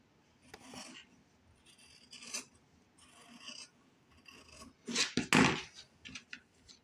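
Scissors cutting fabric for a sewn neck wrap, several short close snips and rasping slices in uneven bursts, the last few louder, with no talking.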